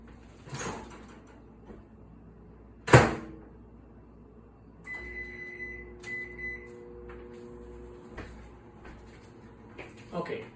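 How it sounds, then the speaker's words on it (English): A microwave oven heating water hums steadily with a low drone and faint tonal whine, preceded by door clunks and a sharp thump. "we'll throw it in the microwave"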